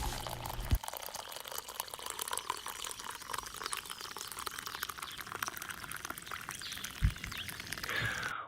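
Hot coffee poured into a cup, a continuous trickling liquid stream running for several seconds at close range, with a couple of brief knocks near the start and end and no talk.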